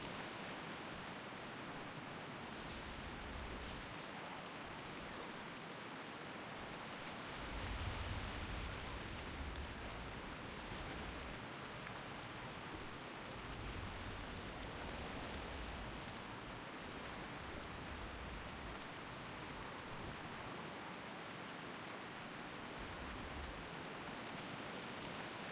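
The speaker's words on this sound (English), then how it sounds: "Rain in this game always sounds butt." Steady rain falls in the video game WoW Ascension, a continuous, even hiss of dense drops with faint low thumps underneath, unchanging throughout.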